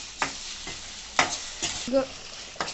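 Chicken with gongura leaves frying and being stirred in a pan, with soft sizzling under several separate scraping strokes of a spoon, close and fairly quiet, with no talk.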